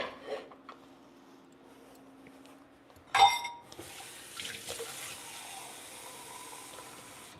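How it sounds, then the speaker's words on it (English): Water poured from a cup into a pot on a stove, a brief splash followed by a steady, moderately quiet trickling and hiss for several seconds, with no talking. "add 1 cup of water to let it boil"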